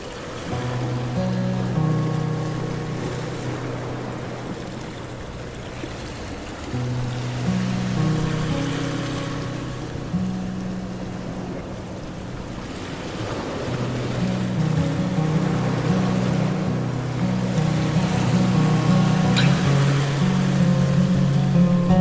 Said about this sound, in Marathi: मंदिराच्या बाजूला वाहत्या पाण्याकडे बघत राहावं असं वाटतं